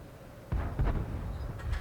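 A 17-pounder gun on a Firefly tank fires in World of Tanks, a sudden deep boom followed by a rumbling, rolling tail and a few softer thuds, loud and close.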